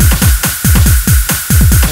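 Fast programmed breakcore drum beat with a bright ride cymbal washing over every eighth note, booming kicks and snares driving a loud, dense, repeating loop without speech.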